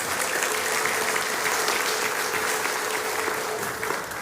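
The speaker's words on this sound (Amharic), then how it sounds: "ለዚህ ጌታ እስቲ እልልታና ጭብጨባ እንስጠው" Church congregation applauding in a continuous, even roar of clapping that fills the space steadily, with a thin sustained high tone running through it; no distinct ululation stands out.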